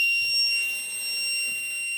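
A continuous high-pitched electronic tone from a Forte ACDR-10000 voltage stabilizer sounds steadily after its four relays switch on, thin and piercing, with no talking.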